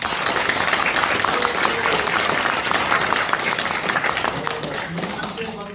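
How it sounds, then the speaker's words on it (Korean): Seminar audience in a hall giving sustained applause, dense overlapping clapping that holds steady and then eases slightly near the end, with a murmur of crowd underneath. "박수 한번 주십시오."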